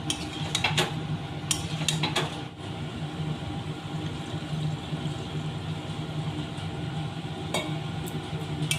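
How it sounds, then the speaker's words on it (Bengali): Fried potatoes and drumsticks stirred through mustard spice paste in a pan, a steady close sizzle with clinks and scrapes of a spatula against the metal at irregular moments. "এবার ভেজে রাখা আলু আর সজনে ডাঁটা দিয়ে দিচ্ছি। ভালোভাবে কষিয়ে নেব।"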